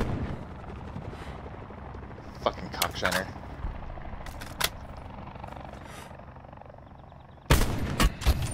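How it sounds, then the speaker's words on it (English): Loud, sharp sniper rifle gunshots ring out in a video game, a couple of isolated cracks and then a burst of heavy fire near the end, aimed at a helicopter, over background noise and an excited voice. "I'm about to snipe them."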